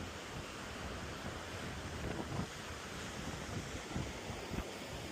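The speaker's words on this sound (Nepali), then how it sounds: "हेर्नु त्यहाँ पानी, आमा कस्तो छाल हान्छ" Sea waves roll and crash onto the shore at Victor Harbor, a steady, loud wash of surf mixed with wind buffeting the microphone, with a few heavier breaks standing out.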